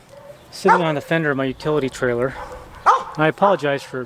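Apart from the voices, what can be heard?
dogs barking in the neighborhood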